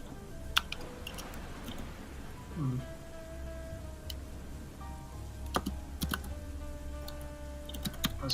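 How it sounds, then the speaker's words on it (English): Quiet, irregular clicking of keys being typed, with a low steady hum underneath and a few sharper taps. "I was just typing."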